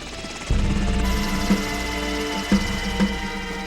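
A military transport helicopter, prepped for takeoff as assault troops board, roars into a loud, steady engine and rotor drone that holds without a break, with a few heavier thumps punching through at intervals.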